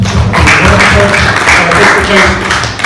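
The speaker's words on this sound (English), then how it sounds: "Please give yourselves a round of applause" Loud applause from an audience at a blind merchants' public speaking session, a dense burst of many hands clapping with some voices mixed in.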